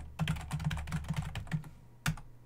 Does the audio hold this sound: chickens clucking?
no